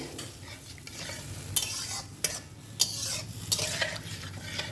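Potatoes in warm water are stirred in a pot for a Bengali fish curry, a soft, steady scraping with a few sharper clinks of the spoon against the pot, fairly quiet and close.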